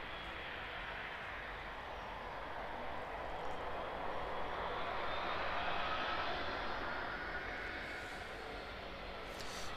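Ryanair Boeing 737 at East Midlands Airport, a steady, fairly distant jet engine rush that rises slightly and then eases, heard alone without voices.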